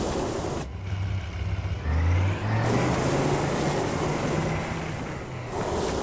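A car in the racing game Trackmania Canyon drives on with a loud, continuous engine drone and road rush, the pitch shifting slightly as it accelerates, with no talk over it.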